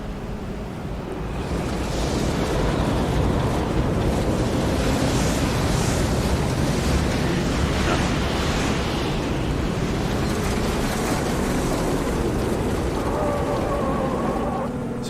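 Simulated tornado in the Storm Chasers video game: a loud, continuous roaring rush of wind and debris-like noise, swelling after the first second and holding steady throughout.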